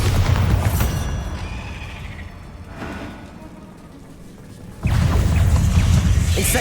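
Bombarda explosion spell going off in the video game Hogwarts Legacy: loud, dense booming blasts open the clip, ease into a quieter rumbling lull, then erupt again into a sustained heavy crash near the end.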